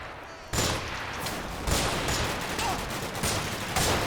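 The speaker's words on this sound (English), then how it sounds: "the BMP begins to open fire" A BMP infantry fighting vehicle opens fire in the video game Combat Mission: Black Sea, heard as repeated bursts of automatic gunfire, with several sharp onsets over a sustained, moderately loud battle din.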